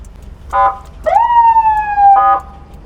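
A loud tow truck siren gives short electronic chirps around a long sustained wailing tone, close by and unaccompanied by talk.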